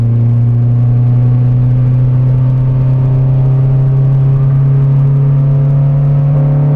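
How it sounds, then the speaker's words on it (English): A 2009 Honda Civic Si engine holds a loud, steady droning hum with strong harmonic tones, a constant close-up mechanical note throughout, no voices. "VTEC kicks in very early."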